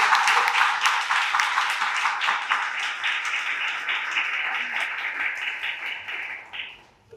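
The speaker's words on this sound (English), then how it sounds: "Can we have another round of applause?" Audience applause at a leaders' breakfast meeting, a dense burst of many hands clapping that carries on steadily for several seconds before tailing off at the end.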